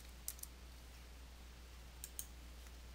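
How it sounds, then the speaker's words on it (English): Two quick pairs of light key clicks on a computer keyboard, typing a Control plus O shortcut, faint and crisp against a quiet background hum, with no voices. "press the Control key on your keyboard and then tap the O key on your keyboard to use the"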